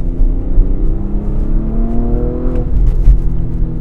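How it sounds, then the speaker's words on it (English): A Porsche Panamera hybrid's sports exhaust revs up with a rising, throaty growl, then drops off and settles into a deep burble, loud and close. "the sports exhaust sounds absolutely beautiful"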